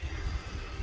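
A small model gyrocopter engine drones steadily at close range, a continuous low buzzing hum without pauses.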